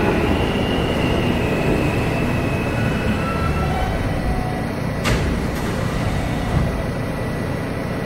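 An R160A G subway train on the IND Crosstown Line in a Roblox game rumbles steadily along the track with a broad, continuous roar, faint tonal whines above it and a couple of sharp clicks midway.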